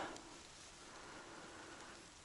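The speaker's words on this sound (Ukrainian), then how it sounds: "Падає невеличкий дощик." Light rain falls steadily beside the Dniester river, a soft continuous hiss of drops with no voices, even and moderately quiet throughout.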